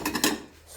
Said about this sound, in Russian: Это чешская посуда.